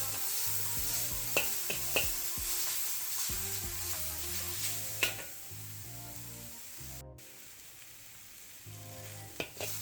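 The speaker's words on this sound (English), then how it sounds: "constantly stirring to make sure that nothing burns and everything is kind of stir frying nicely till it's a golden brown" Mixed vegetables stir-frying in a hot pan beside rockfish with a sweet garlic sauce, a continuous sizzle with scattered clinks and scrapes of stirring, close and moderately quiet.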